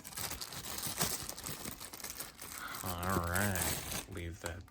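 Plastic packaging crinkles and rustles as it is pulled off a PDP Riffmaster guitar controller, with close crackling at first before a voice speaks over it.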